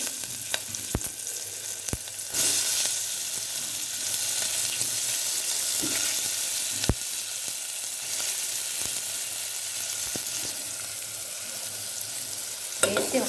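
Bottle gourd pieces frying in a pan for Telugu-style sambar, a steady sizzle with occasional sharp scrapes and clacks of a spoon stirring, close and continuous.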